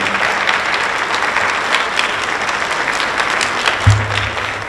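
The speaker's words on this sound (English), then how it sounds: "let's give those people a big round of applause." A crowd at an MLK Day event for young scholars in Norristown applauds steadily, with dense, sustained clapping and a brief voice near the end.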